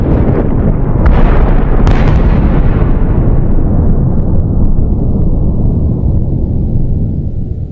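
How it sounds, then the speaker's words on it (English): A massive explosion in a narrated zombie story: a loud, deep boom that rolls and rumbles, then slowly fades over several seconds with no narration over it. "there's some enormous noise as explosion nearby."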